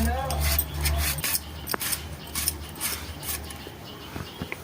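A knife chops capsicum into small pieces on a board, producing irregular close taps and scraping strokes over a low hum, with a voice speaking at times.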